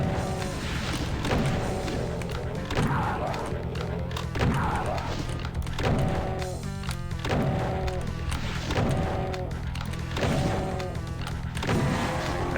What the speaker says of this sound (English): So good time to use that rocket launcher